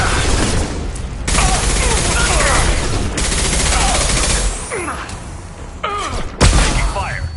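Heavy gunfire in a Mass Effect 2 firefight, loud sustained bursts and booming shots with quick gaps between volleys, and voices shouting over the din.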